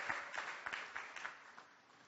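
A church congregation applauds, a faint, distant patter of clapping hands that fades toward the end.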